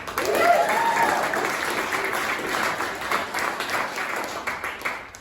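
Comedy club audience applauding, dense sustained clapping from a crowd that swells early and slowly tapers off, with scattered voices mixed in.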